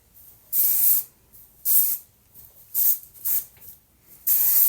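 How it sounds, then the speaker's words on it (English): Kindred dry texture spray misted onto hair in four distinct hissing bursts, each about half a second to a second long with short pauses between, close and fairly loud with no talking. "Now this is some texture spray."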